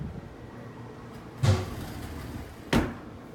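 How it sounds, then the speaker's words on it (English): Mahogany sliding doors in a bedroom of a Kihei, Hawaii beach condo give two short, sharp knocks about a second apart, each a quick thud with a brief rattle, close by and otherwise quiet. "Got these nice mahogany sliding doors."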